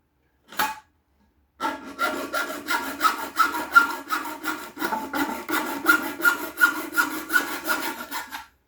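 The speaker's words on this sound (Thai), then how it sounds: "ท่อ PVC ขนาดหนึ่งนิ้ว เราเอามาตัด ให้ได้เป็นสี่แฉกนะครับ แล้วก็มาตัดกันเลย" A handsaw cuts steadily through one-inch PVC pipe in quick back-and-forth strokes, close and fairly loud, after a brief knock at the start.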